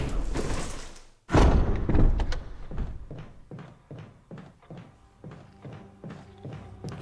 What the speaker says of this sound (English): Disregard the banging on the door.